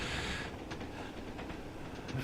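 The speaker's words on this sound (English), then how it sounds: "This is an unusual train. You have to change gear in it." A geared Trans Pennine train runs in Train Sim World, giving a steady rolling rumble with faint rhythmic clicks from the rails throughout.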